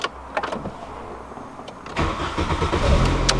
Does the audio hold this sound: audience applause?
no